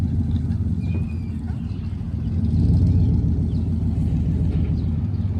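A junkyard Cobra Mustang, left about 20 years in a field, is towed back into position, with a steady low engine rumble from the towing vehicle that runs continuously and swells slightly midway.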